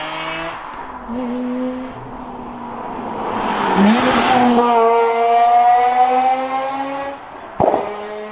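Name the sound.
Mazda RX-8 bridge-ported rotary engine revving, exhaust popping between shifts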